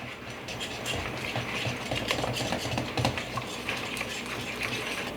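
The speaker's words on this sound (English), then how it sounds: "just mix your honey and your butter really well" Honey and butter are whisked together by hand in a bowl, producing a fast, continuous scraping clatter of the whisk, steady and close throughout without any talk.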